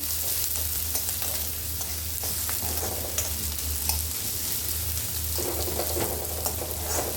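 Onion sautés in a pan for a wild-greens vegetable dish, a close continuous sizzle broken by scraping stirs and light spoon taps, with a low hum underneath.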